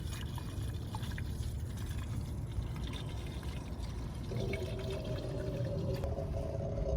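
Car coolant being poured into the coolant reservoir of a 2011 Ford Transit Connect, a quiet steady liquid pour that thickens into a faint gurgle toward the end, with no talk over it.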